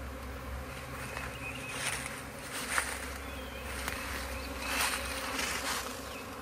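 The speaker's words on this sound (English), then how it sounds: "I see a bunch of the bees leaving" Honey bees buzz steadily as they leave a swarm branch, a soft continuous drone with individual insects zipping past the microphone now and then, outdoors and fairly quiet.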